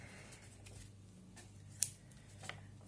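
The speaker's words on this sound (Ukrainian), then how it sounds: "беремо ножиці в руки і починаємо вирізати" Scissors snip through paper knife templates in a few faint, separate cuts, close but quiet, with soft paper rustling between the snips.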